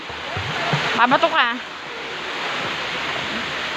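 Broadband rushing water of a waterfall in Tanay, Rizal, a steady wash throughout with people talking briefly over it.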